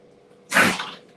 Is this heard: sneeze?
yes